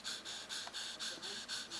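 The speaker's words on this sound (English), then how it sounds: "This guy just had a ride up the tree and is still a little panting." A young eagle pants in its nest on a hot day after being carried up the tree, giving steady rhythmic rapid breaths, close and fairly soft, repeating about every quarter second with no other sound.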